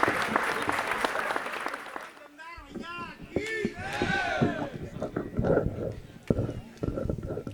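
An audience at a Hindi comedic poetry gathering gives loud applause welcoming poet Damdar Banarasi, the clapping and crowd noise rolling steadily under an announcer's voice and cheering calls.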